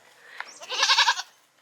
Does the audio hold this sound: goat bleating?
yes